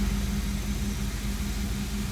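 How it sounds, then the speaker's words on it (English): Low steady engine rumble and hum as a CRJ-200 jet engine starts in a flight simulator, continuous and even with no talk. "Starting engine number 1"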